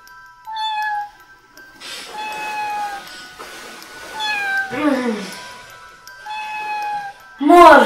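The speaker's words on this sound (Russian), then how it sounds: "ты почему лежишь на полу и мяукаешь?" A sick house cat lying on the floor meows repeatedly, several drawn-out plaintive cries close by, the last one loud and strained, with a voice speaking softly between them.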